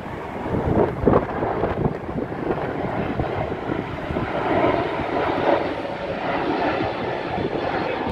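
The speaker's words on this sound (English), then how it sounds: "I think this is my first time getting a Hawaii Neo takeoff on this side." Hawaiian Airlines airliner taking off, a broad jet engine roar mixed with gusty wind buffeting the microphone, rising and swelling across the clip without any talking.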